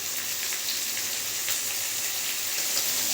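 Chopped vegetables hit hot oil with tempering spices and fry in a steady, bright hiss that runs loud and unbroken throughout.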